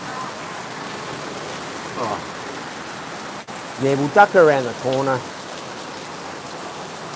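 Steady rain pours onto a street in Thailand, a dense even hiss that goes on without a break, with someone talking briefly over it partway through.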